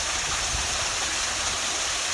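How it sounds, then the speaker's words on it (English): A freshwater stream spilling over a waterfall in the Australian bush gives a steady, close, hissing rush of falling water that runs without a break and with no voices. "That's a plenty nice waterfall."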